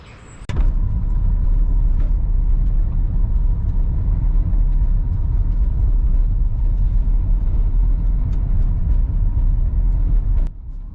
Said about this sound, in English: So now I'm going to hop in the car and take a drive towards it.